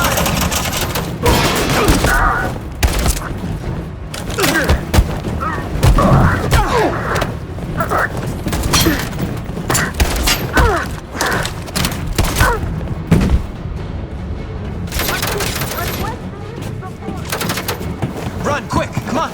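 Gunfire in the video game Detroit: Become Human, repeated sharp shots and bursts in an ongoing firefight with thuds and impacts, loud and close, mixed with shouting voices.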